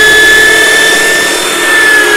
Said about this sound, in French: eh bien ta perceuse, tu la mets en blocage.